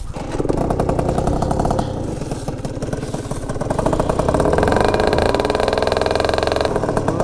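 A Zip scooter's small engine, fitted with a Dr 70 kit, revs and idles with a rattling, buzzing tone, rising in pitch midway and holding steady, close and fairly loud.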